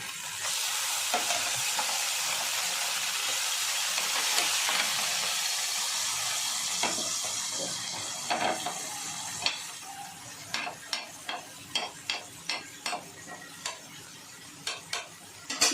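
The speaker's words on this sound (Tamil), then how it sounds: "இப்போ நம்ம மீனாக திருப்பி போடலாம்" Fish coated in turmeric and salt fries in a hot pan, a loud dense sizzle that gradually softens, followed by a series of sharp spatula scrapes and clicks as the pieces are turned over.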